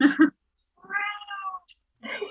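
An old house cat gives two meows with clear harmonic stacks, near and fairly loud, between bursts of indoor chatter from people.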